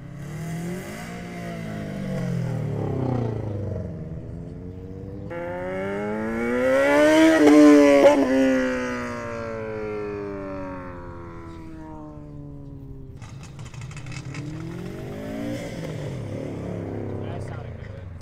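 A Toyota 86 / Scion FRS accelerates around a race track, its engine note climbing through rising revs, peaking loudly as it passes, then fading as another car follows, with people talking over it.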